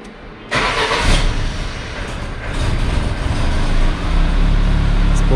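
An Iran Khodro Samand car engine is started nearby, a sudden loud crank catching into a rough, steady running rumble that grows slightly louder.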